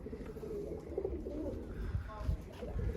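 A four-year-old blue male Turkish tumbler play pigeon coos softly outdoors, a few low rolling calls at moderate distance, mixed with people talking and ambient outdoor noise.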